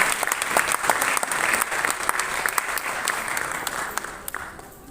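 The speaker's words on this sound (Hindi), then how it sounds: "जोरदार तालियां चाहूंगा आदिल साहब के।" A film festival audience in Kurukshetra gives actor Adil Hussain a loud round of applause at an award ceremony, with sharp individual claps standing out from a steady crowd clapping that fades slightly toward the end.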